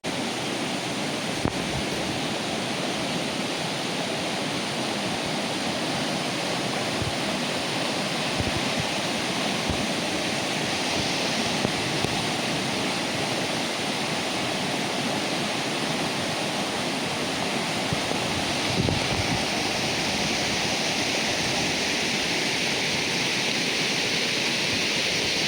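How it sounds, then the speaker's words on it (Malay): A constant roar of the Postwell waterfall at Pos Tuel, Gua Musang, Kelantan, Malaysia, broad and unbroken, steady throughout with no voices. "Ada pulau kecil dia. Pulau Postwell nama dia. Air terjun"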